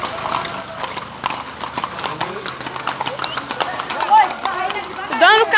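Horse hooves clip-clop steadily at a ranch horseback ride held at night, close and continuous, with people chatting and calling out over the hoofbeats and a brief whinny-like sound near the end.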